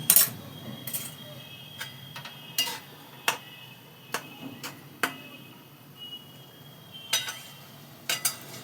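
Metal spoon clinks and scrapes against a pan while oil-free flattened-rice (chira) bora curry is stirred, giving a series of sharp, irregular ticks and clatters, fairly close and alone with no talking.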